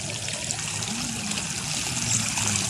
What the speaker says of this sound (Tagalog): Then naantayin natin na mag-flowing doon sa overflowing na ginawa natin.